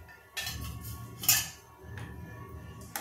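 A spoon stirring thin South Indian rasam in a metal pot, with a few distinct clinks and scrapes against the pot's side amid quiet surroundings.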